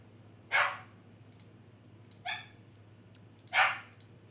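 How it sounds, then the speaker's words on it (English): Dogs barking excitedly indoors, three separate sharp barks spaced a second or more apart over a low steady background hum. "so the dogs are fucking wiling out because they're ready to"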